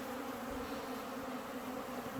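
Honey bees in a dense crowd fly around the entrance of a Newfoundland hive in August, giving a steady, close buzzing drone that holds constant throughout with no voices.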